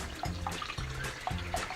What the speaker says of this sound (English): We are going to cover with water